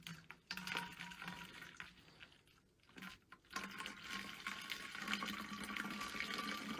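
Warm water is poured into a bottle, making a steady, close pouring and filling rush that breaks off briefly partway through and then carries on to the end.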